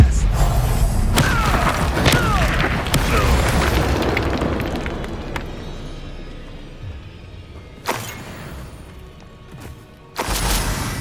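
Confringo blasting spell exploding in Hogwarts Legacy: several loud booming blasts with rumbling tails, a big burst at the start and two sharper ones near the end, with no talk.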